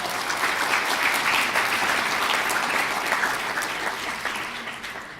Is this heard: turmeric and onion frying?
no